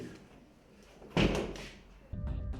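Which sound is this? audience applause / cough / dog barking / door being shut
door being shut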